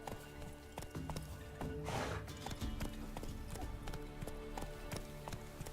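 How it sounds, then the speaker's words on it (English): Rapid, steady hoofbeats of a galloping horse in The Witcher 3 video game clip-clop throughout, with a brief whinny and a rushing burst partway through, all fairly loud. "Damn twisty horse."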